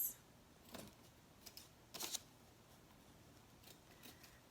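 Scissors snip off excess ribbon while a gift is being wrapped, giving a few faint, crisp cuts, the clearest near the middle, set against a quiet background with soft handling noises.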